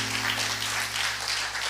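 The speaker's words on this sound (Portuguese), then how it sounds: "Aplauda o seu bem forte." A congregation applauding in a church service, a steady wash of many hands clapping at once, dense and continuous with no talk over it.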